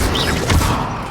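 A magical spell effect in the Hogwarts Legacy video game, heard as a dense rumbling blast with crackling, booming texture filling the whole moment.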